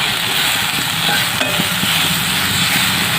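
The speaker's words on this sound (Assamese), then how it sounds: "অকণমান মই ঢাকনাখন দি দিছোঁ অকণমান লৰাই দিওঁ" Fish curry with shewali flowers being stirred in a pan in an Assamese kitchen, steady close scraping and stirring over a continuous loud sizzle and bubbling, no talking.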